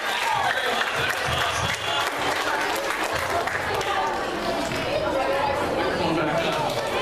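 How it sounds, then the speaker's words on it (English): A school show audience breaks into applause mixed with crowd chatter, a dense steady wash of clapping and voices filling the room throughout. "Everybody give her a big round of applause."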